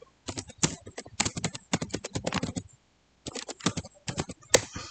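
Rapid clatter of keystrokes on a computer keyboard as a network switch command is entered, close and fairly loud, in dense bursts with a short pause before a final few taps and a sharper key press.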